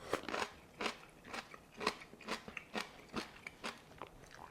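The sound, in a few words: crunching fermented bok choy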